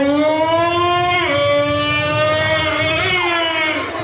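A loud motorcycle engine, a Royal Enfield, revs up and down, its pitch climbing and dropping in two sweeps, close by with no talking.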